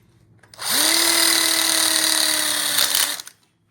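A power drill drives a screw into an outdoor kitchen grill cutout: one close, loud whirring burst of about two and a half seconds that spins up and winds down sharply.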